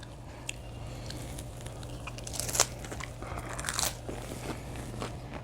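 Dried gwamegi fish is chewed close to the mic, with soft, wet chewing and a couple of sharper crunchy bites standing out from a quiet room hum.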